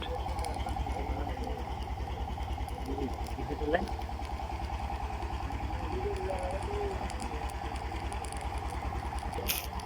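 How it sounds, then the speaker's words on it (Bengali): An engine-driven boat on a river near a ship jetty chugs in a steady, even rhythm, moderately loud, while a person talks over it. "এটি ইঞ্জিন চালিত নৌকা"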